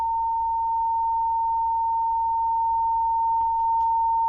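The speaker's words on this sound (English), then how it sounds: "Nice stable sine wave there." A steady, pure sine wave test tone through a Marshall Lead 12 guitar amplifier under repair holds at one pitch without wavering, with a faint hum beneath and a few soft clicks near the end.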